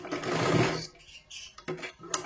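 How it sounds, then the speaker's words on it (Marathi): A sewing machine stitches a katori blouse in a steady loud whirring run for most of a second, then stops and gives a few shorter bursts and clicks close by. "अशा पद्धतीने शिलाई मारून घ्या. 2 वेळा मारले तरी सुद्धा चालेल."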